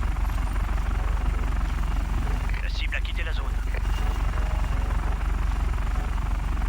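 Steady rotor drone of a helicopter flying in the video game Just Cause 3, a constant loud low hum with someone talking over it throughout.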